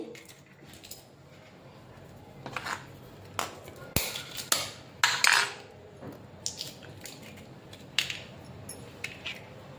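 Raw eggs cracked one after another against a bowl for a spicy egg starter, a series of sharp taps and clinks with wet cracking, close and moderately loud over faint kitchen background.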